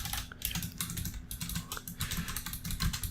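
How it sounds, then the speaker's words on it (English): Fast, continuous typing on a computer keyboard during a podcast recording, with quick uneven clatter of keys close to the mic. "Sorry if you can hear me typing"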